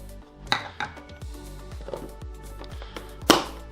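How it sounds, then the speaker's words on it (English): Spoon clinking against a bowl while stirring garlic, chili flakes and sugar into Vietnamese nuoc cham dressing, a series of sharp close clinks and taps at an irregular rhythm. "give all that a mix for that sugar to dissolve"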